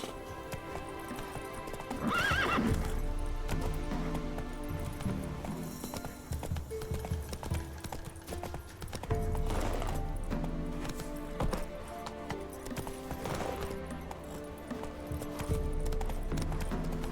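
Roach, the horse in The Witcher 3, gallops with a rapid, steady clip-clop of hooves and lets out loud neighs and whinnies over background game music.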